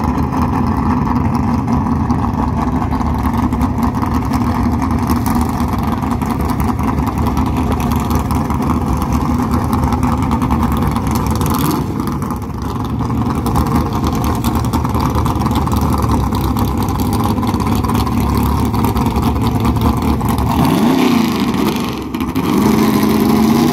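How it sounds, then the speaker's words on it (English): A drag car with a 440 small block engine shifted at 9100 rpm at a drag strip, a loud, steady, droning engine roar throughout with a brief dip midway and a surging rev near the end. "It's got a 440 small block forward in it, and he shifts it at 9100."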